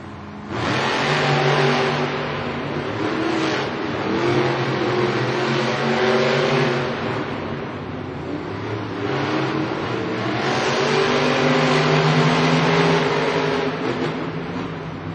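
Monster truck engines revving loudly at the starting line of a Monster Jam stadium event in Indianapolis, a sustained heavy engine roar that swells and surges in two long pushes, with crowd noise underneath.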